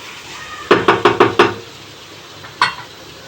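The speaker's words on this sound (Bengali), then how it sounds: "এটা যতক্ষণ ভাজা হচ্ছে ততক্ষণ আমি একটুখানি রসুন আর পেঁয়াজটাকে কুচিয়ে রাখি।" A knife chops garlic and onion on a board while food fries nearby: a quick run of five close, sharp knocks, a pause, then one more knock over a faint background sizzle.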